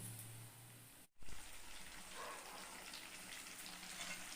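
Onion, ginger and garlic fry together in oil for a goat meat curry, giving a steady, fairly quiet sizzle that cuts out for a moment early on, then resumes and holds evenly.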